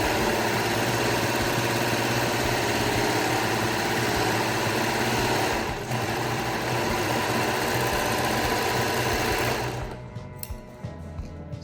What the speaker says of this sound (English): So I've overlocked one side.